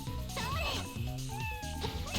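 A cat character in the fighting game Melty Blood Actress Again gives a couple of short, rising meows amid busy game music and hit effects, with a voice talking over them.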